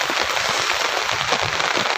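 Steady rain falling in a village after a violent windstorm and hail, a dense, continuous patter close by with no voices over it.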